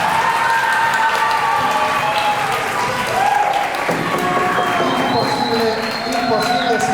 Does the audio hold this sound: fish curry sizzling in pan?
no